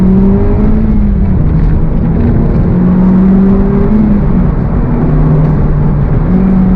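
A 2023 Honda Civic Type R engine pulls hard under throttle from inside the cabin, a loud, steady drone climbing in pitch through gears with brief dips at shifts, no talk.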